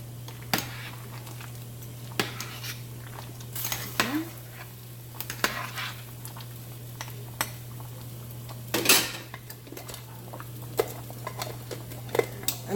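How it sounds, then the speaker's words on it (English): Chicken stirred in a soup pot for a Jamaican-style spicy beef soup, scattered scraping clinks and taps of a utensil against the pot, close over a steady low hum. "immediately you have to stir it because this will stick in clumps in the pot"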